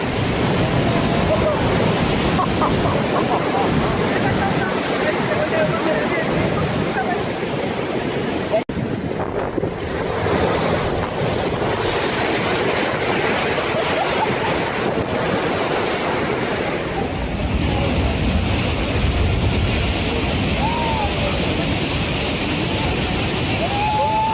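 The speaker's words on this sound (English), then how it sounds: "During the winter months, San Sebastian Bay sees waves rise as high as 30 meters" Huge winter waves in San Sebastian Bay, a roaring wash of surf crashing and churning close by, heavy wind buffeting the microphone throughout, with a brief dip partway before the roar resumes.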